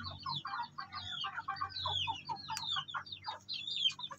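A young Shamo Asil chicken, about three months old, gives a stream of soft clucks and chirpy calls, close by and fairly quiet over a low background hum.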